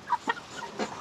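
Chickens cluck in a few short separate bursts in a coop or pen while the birds are readied for weighing on a scale, the calls fairly close and moderately loud over quiet room tone.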